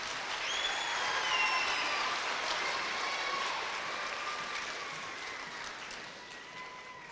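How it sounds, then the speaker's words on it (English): An audience at a school band concert applauds steadily for several seconds, a dense wash of clapping that swells slightly and then slowly tapers off. "How about another round of applause for these outstanding students?"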